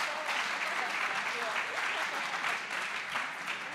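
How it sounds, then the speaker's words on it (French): An audience at an award ceremony for the Grand INSEP labels claps in steady, sustained applause that fills the room, with a few voices faintly underneath. "Sous vos applaudissements, s'il vous plaît."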